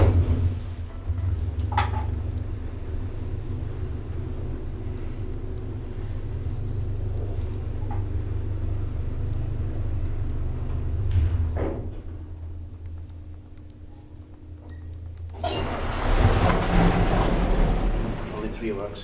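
A 1977 Valmet-Schlieren elevator in a Tampere University building gives a steady low rumble during the ride, with thumps from the doors and a louder mechanical rush near the end, and people talk over parts of it.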